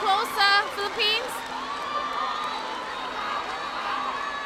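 A crowd cheers and whoops at a 2019 SEA Games netball match between the Philippines and Brunei, with sharp high shouts at first that ease into a sustained arena roar, while a commentator talks over it.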